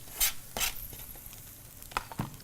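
Broccoli and onion stir-frying in a pan make soft scraping stirs and light sizzling clatter, a couple of sharper scrapes at the start, then quieter shuffling with faint hiss between.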